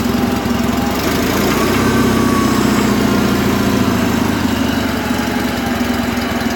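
An old engine idles steadily with no choke while still warming up, a loud, continuous low rumble with a faint irregular lope, running alone without speech.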